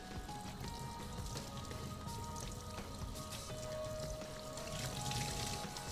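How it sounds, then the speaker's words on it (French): Clean water rinsing a KTM enduro foam air filter inside and out, a steady close spatter and trickle of running water with soft squishing, continuous throughout. "on va rincer le filtre à l'eau claire. Intérieur, extérieur, on le rince."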